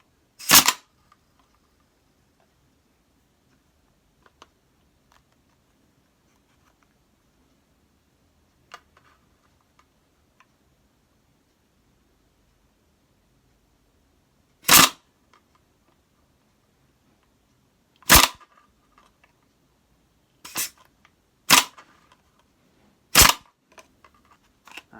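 A WE G36 gas blowback airsoft rifle fires as its valve is struck by hand. Five or six sharp, loud cracks come at irregular intervals with long quiet gaps between them, and fainter ticks follow.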